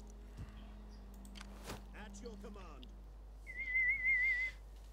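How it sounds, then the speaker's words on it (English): A person whistles a short wavering tune toward the end, close and clear, after quiet background sounds and a brief low hum. "Quit whistling."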